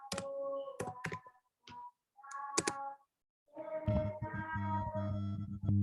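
Quick bursts of computer-keyboard typing come as sharp, close clicks in short clusters separated by silent pauses, followed by a stretch of denser, noisier clatter with a low hum underneath.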